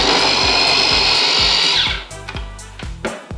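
A blender purees a banana, a loud steady whirring motor with a fluttering, chopping pulse, then slowing and rattling unevenly as the fruit breaks down over about two seconds.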